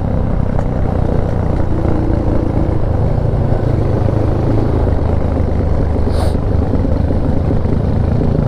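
A motorcycle rides at night on the road from Sendi to Cangar in third gear, a loud, steady engine drone with wind rumble throughout and no clear break for a gear change.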